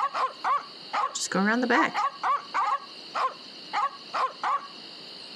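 Several dogs bark repeatedly outside a mansion in The Secret of Monkey Island, sharp evenly spaced barks with a brief yelping whine in the middle, while a voice speaks over them.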